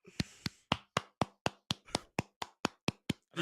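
Sharp hand claps from one person sound up close, around fourteen of them at a steady, slightly quickening pace with no other noise around them.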